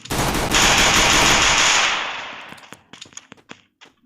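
Video game gunfire, a loud sustained burst of rapid automatic shots lasting about two seconds, then fading into a few scattered sharp cracks and clicks.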